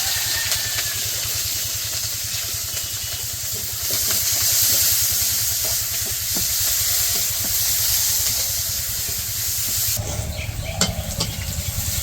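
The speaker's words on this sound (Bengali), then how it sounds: "তো পেঁয়াজ কাঁচামরিচ ভাজা নিচ্ছি" Chopped onions and green chilies fry in oil in a wok for a village-style fish curry, a soft steady sizzle under a low, continuous hum.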